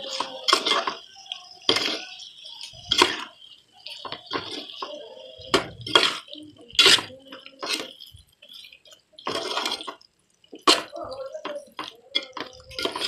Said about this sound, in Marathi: आता चिकन आपण व्यवस्थित मिक्स करून घेऊया